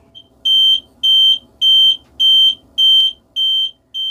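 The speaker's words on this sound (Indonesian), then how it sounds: "di sini ada fatigue alarm atau fatigue warning" A high electronic fatigue warning alarm in a Volvo FM440 dump truck cab beeps in a steady rhythm, about seven sharp, evenly spaced tones, loud and close, with a low cab hum beneath.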